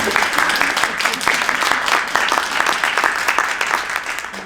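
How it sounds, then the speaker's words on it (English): An audience at a League of Women Voters area board candidate forum applauds, with steady dense clapping that carries on evenly for several seconds without a break. "I also like to applaud this fabulous audience"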